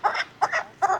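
A Nai Hồ breed chicken at a market gives three short clucks in quick succession, close and clear, with no talk over them.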